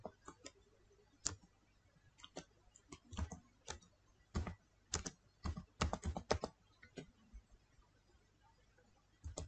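Computer keyboard typing on a Windows 10 or 11 PC, sparse bursts of crisp, close key clicks separated by short pauses against a quiet background.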